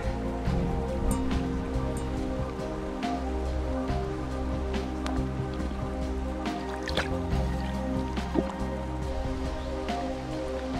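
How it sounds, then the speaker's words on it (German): A water bottle is refilled from a small forest stream in the Spessart. Close trickling and dripping run over steady flowing water, with occasional splashes and wet handling sounds, and no speech. "Und dann werde ich endlich mein Wasser auffüllen."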